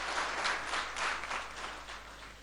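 A crowd at a Patanjali gathering gives a round of clapping for two seated guests, a steady, moderately faint wash of many hands that swells and eases slightly over a couple of seconds.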